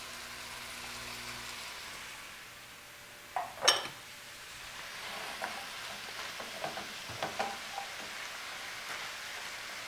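Celery and purple onion cooking with hamburger meat in a pan, a low steady sizzle with a sharp clatter of utensil against the pan and scattered stirring scrapes, close and moderately quiet.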